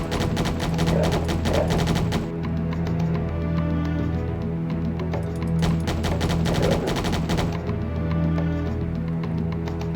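Gunfire rings out as soldiers are shot in the Corpse Killer game for DOS and 3DO: dense rapid bursts of shots over a constant droning music bed, with two clear clusters of heavy firing.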